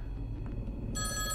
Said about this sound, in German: Telefon? Warte mal,